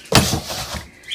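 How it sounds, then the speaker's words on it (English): Sliding cabinet doors in a renovated farmhouse-style kitchen glide open with a quick rumbling slide and a faint squeak at the end, close and short. "And then down here, these doors slide."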